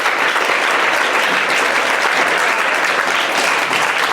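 Steady, loud applause from the audience at a Hindu student family gathering fills the whole stretch, a dense wash of many hands clapping without break and no voices over it.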